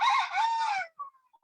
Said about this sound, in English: excuse me for the rooster.